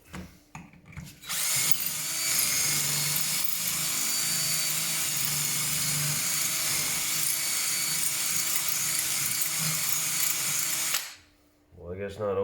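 A power drill whines loud and steady while enlarging a bolt hole on a Yamaha Nytro snowmobile, running continuously for about nine seconds before stopping, with a voice speaking briefly around it.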